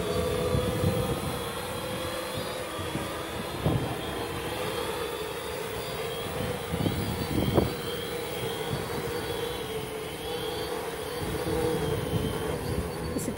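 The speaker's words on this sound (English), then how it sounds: "Then the drone will go down slowly, about 3 meters per second." A drone slowly descends to land on automatic return at about 3 meters per second, its continuous rotor whir steady and fairly loud with faint background noise and no speech.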